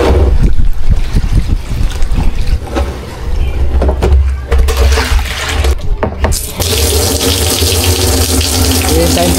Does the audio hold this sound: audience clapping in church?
no